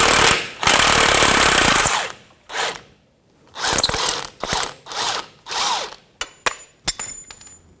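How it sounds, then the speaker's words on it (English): A 1/2-inch drive ratchet with an 18mm socket pulls the ball joint pinch bolt on the front knuckle of a Jeep Patriot. Loud, close bursts of rapid ratcheting clicks are broken by short pauses, then sharp separate clicks. "I'm going to use 1/2-inch drive and pull that bolt out."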